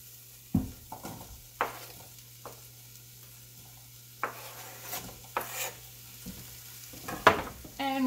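Peppers tipped into a pan of partly cooked onions for a Serbian string bean stew, giving soft scraping stirs and brief bursts of sizzle over a low steady hum, close and fairly quiet.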